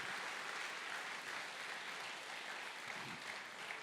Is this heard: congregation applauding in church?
yes